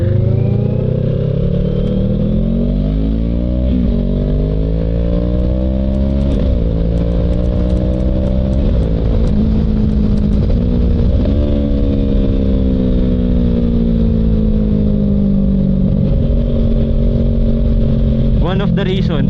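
A 2019 CFMOTO 650MT with a twin-cylinder 650cc engine accelerating up through the gears, revs repeatedly climbing and dropping at each shift, loud and close throughout.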